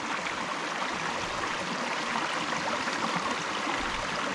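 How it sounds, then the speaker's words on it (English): A small brook flows along a rural road near a reservoir, giving a steady, close rushing babble that runs unbroken without any voices. "It's a nice little brook."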